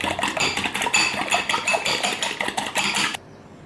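A spoon mixing bowlcake batter in a bowl, with rapid rhythmic scraping and clinking strokes for about three seconds before stopping abruptly.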